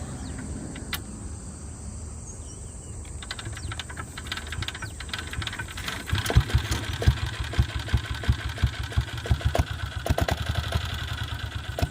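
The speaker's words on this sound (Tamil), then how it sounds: "கையில் கிக் பண்ணி கிளப்ப முடியுது" A Royal Enfield diesel Bullet motorcycle, hand kick-started, settles into a close, loud idle with an even, heavy thumping rhythm that grows stronger over the last half.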